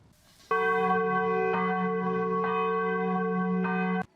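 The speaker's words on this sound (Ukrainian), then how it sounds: "якщо ви чуєте звук церковних дзвонів, це сигнал хімічної небезпеки" Church bells ring continuously with a rich, sustained metallic tone as a chemical hazard alert, struck again several times so the ringing swells before cutting off.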